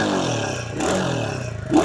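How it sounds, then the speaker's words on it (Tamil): A vehicle engine revs briefly and drops back, its exhaust note rising and falling in a short blip before a second quick rise, heard close with no talk. "வண்டியை ஸ்டார்ட் பண்ணி எக்ஸாஸ்ட் நோட்டு கேட்குறப்பாங்க."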